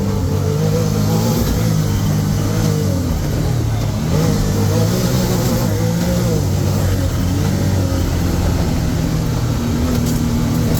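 Can-Am Maverick R X side-by-side driven along a forest trail in Ocala National Forest, its engine droning steadily and loud throughout with slight rises in pitch, and someone talking over the motor.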